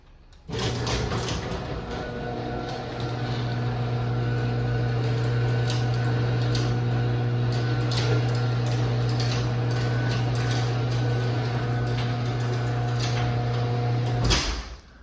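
A Sears Craftsman 139.53637SRT garage door opener runs the door down, a steady loud motor drone with a strong low hum and faint rattles lasting about fourteen seconds before cutting off abruptly, with no talking.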